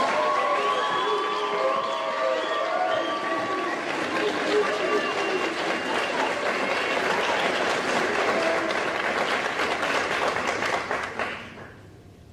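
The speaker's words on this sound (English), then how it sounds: "Give these gentlemen a round of applause." A crowd at a JROTC awards ceremony applauds and cheers for two instructors, a chief and a first sergeant: loud, sustained clapping with whoops and voices that fades out near the end.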